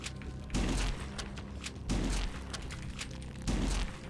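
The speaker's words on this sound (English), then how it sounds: "And we're going to blow them all up. With our shotgun." Three heavy shotgun blasts in the video game HROT, blowing up zombies, each a loud booming thump with a rumbling tail, spaced roughly evenly apart with game ambience in between.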